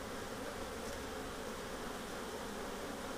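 Honeybees buzzing steadily around an open beehive during an inspection, a dense, even hum close by and continuous, with no voices.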